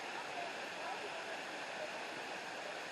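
Waterfall heard as a steady, faint broadband rush of falling water, even and unbroken across the short stretch with no voices over it.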